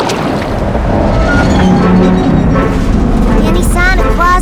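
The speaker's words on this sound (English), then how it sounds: "the wind is picking up and causing some really big waves" Strong wind and big ocean waves in a cartoon, a loud continuous rush of surf and gusting air with a voice speaking over it.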